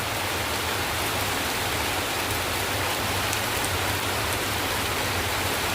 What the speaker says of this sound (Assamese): চোন ইমান ডাঙৰ বৰষুণ দিছে